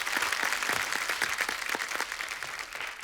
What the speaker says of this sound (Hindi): एक बार मास्टर जी के लिए जोरदार ताली.